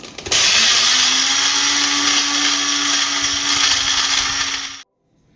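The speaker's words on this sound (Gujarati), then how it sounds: "પ્રથમ આપણે બિસ્કિટને ગ્રાઇન્ડ કરી દઈશું" Electric blender grinding biscuits into crumbs for a quick brownie: a loud, steady motor whir with a rattling churn that runs for about four and a half seconds, then cuts off abruptly into near silence.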